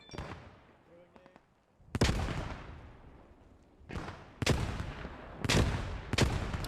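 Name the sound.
grenade explosions in the video game Post Scriptum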